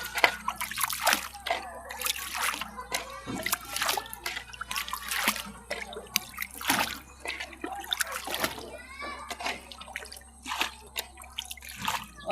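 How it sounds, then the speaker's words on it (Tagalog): Water dripping, trickling and splashing inside a small wooden boat, with scattered irregular drips and sloshes close by, mixed with background activity and occasional voices. "Tubig dito sa baroto."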